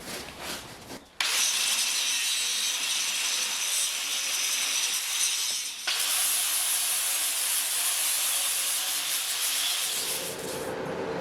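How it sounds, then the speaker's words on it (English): An angle grinder grinds welds off an old Ford F100 rear suspension bracket, a loud, steady abrasive hiss that starts abruptly after a quiet second, dips briefly midway, and runs on close and continuous. "I'm just grinding the welds now."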